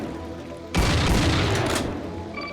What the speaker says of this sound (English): I think those scream beasts are already firing at me.